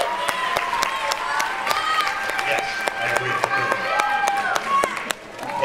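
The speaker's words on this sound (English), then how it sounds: "let's give them a round of applause, please" Audience applause for a pair of student guitar players at a grandparents day school concert: a steady wash of clapping with sharp hand claps, carrying on under a talking voice.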